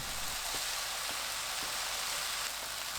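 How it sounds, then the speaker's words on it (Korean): Chives and fish cake stir-frying with seasoning in a hot pan, a steady bright sizzling hiss with a few faint taps of a utensil. "양념 붓고 30초 볶습니다."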